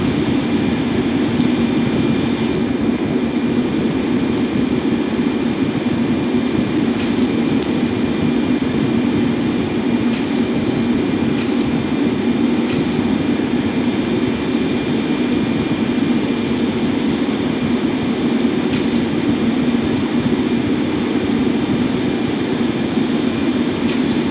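Ryanair Boeing 737-800 jet engines roaring during takeoff, heard from inside the aircraft as a loud, steady, unbroken rumble with a constant whine over it, lasting throughout with no talk.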